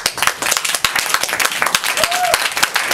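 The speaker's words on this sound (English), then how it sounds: "Can we get another round of applause for our first 3 fabulous MFA?" Audience applause after a literary reading at Rose Live Music, a crowd clapping with distinct sharp individual claps standing out from the steady rain of hands.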